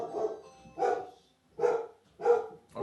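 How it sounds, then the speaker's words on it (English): A dog named Bailey barks at the door indoors, four separate loud woofs with pauses between them, close by and with no talk. "the dog ends it by barking at the door"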